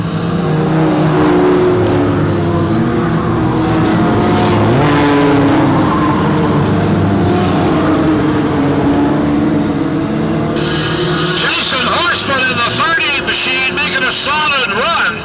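Stock cars race around an oval track in a loud, continuous engine roar that rises and falls as the pack passes, with a commentator talking over it throughout.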